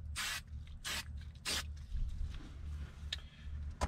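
Three short hissing bursts of an aerosol adhesive spray on a 4Runner rear seat upholstery edge, close by, followed by quieter rustling and a couple of faint ticks.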